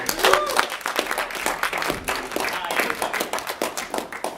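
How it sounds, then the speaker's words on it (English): An audience claps for a comedian's friend being welcomed on stage, a steady wash of applause lasting several seconds at moderate loudness. "Everybody give a round of applause for Chris here today."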